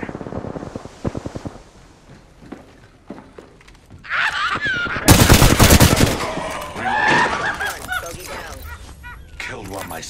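Rapid bursts of automatic gunfire and heavy shooting ring out in a video game firefight, loud and dense in the middle, followed by chaotic impacts and effects, with a voice speaking during quieter stretches.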